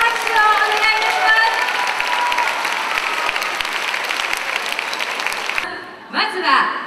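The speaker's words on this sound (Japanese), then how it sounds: "大きな拍手をお願いいたし" A dense wash of applause from a large crowd at a Tahitian dance competition in Japan, 2011, fills the space steadily for several seconds for a live band, then cuts off abruptly as a voice starts speaking.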